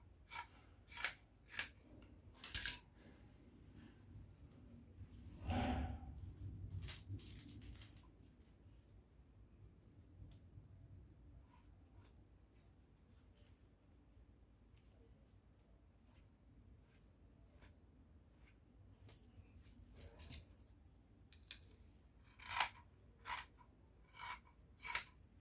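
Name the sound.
scissors cutting tee shirt fabric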